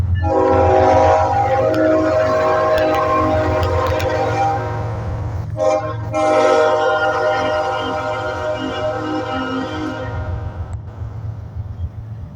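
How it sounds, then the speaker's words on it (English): A loud BNSF freight train rumbles past close by in Vancouver, Washington, with a long, blaring horn that cuts out briefly and returns, the heavy rolling noise continuing beneath. "We got a train."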